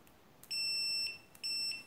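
An automatic multimeter in continuity and diode test mode gives two loud, steady electronic beeps, each about half a second long, separated by a short gap, close and with no talk.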